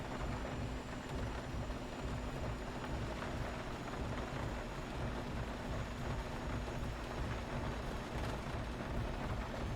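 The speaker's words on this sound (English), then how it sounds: "the rain is a bit intense down here" Heavy rain drumming steadily in a flight simulator, X-Plane 11, with a JARDesign A320 airliner, a dense constant hiss like hail on the airframe, moderately loud and unbroken with no voices.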